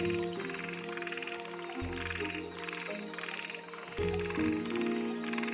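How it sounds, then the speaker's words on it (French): Small yellow frogs gather at night by a stream in Okinawa, a dense chorus of overlapping rhythmic croaks and trills sounding continuously and loud, with pulsing calls answering each other throughout. "Elles se retrouvent la nuit en grands groupes dont les coassements s'additionnent et se répondent jusqu'au matin."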